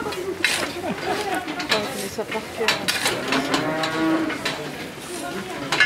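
A cow moos on an educational farm, with several drawn-out lowing calls rising over a busy background of people chatting nearby.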